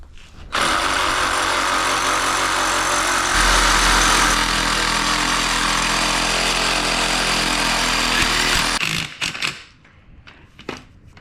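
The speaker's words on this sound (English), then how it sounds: "we gotta just somehow cut all these fins off" A power tool grinds steadily through metal fins on a GMC Jimmy/Blazer during a lift install, loud and continuous for about eight seconds, growing harsher partway through, then cutting off with a few short bursts.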